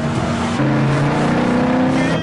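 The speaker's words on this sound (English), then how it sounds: "Stop the car right now!" A car drives with its engine droning and shifting pitch, a close steady mechanical hum that rises as it speeds up.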